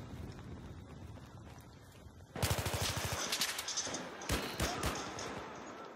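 Gunfire in a shooter video game bursts out after a quieter stretch, a rapid string of automatic shots followed by a few sharper single cracks, moderately loud and mixed with game noise.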